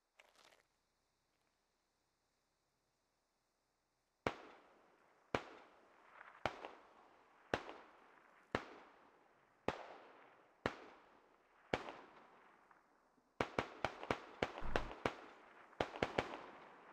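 Gunshots in a tactical military video game, a series of single sharp reports spaced about a second apart, followed by a faster burst of closely spaced shots, with near silence before the first.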